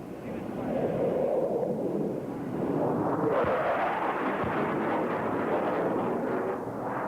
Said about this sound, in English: The first Hornet is in his run right now.